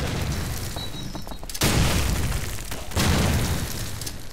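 A grenade explodes in Call of Duty 4 multiplayer on the mp_uber map, with two loud, close booms about a second and a half apart over a rumbling battlefield background.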